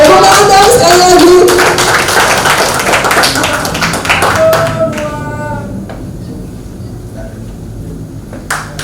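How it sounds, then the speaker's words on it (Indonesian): Audience applause at a regional organization meeting in South Tangerang, a loud burst of many hands clapping that thins out and fades over several seconds, with a voice and some tonal sounds near the end. "Tepuk tangan dong sekali lagi"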